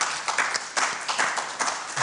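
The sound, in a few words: audience applause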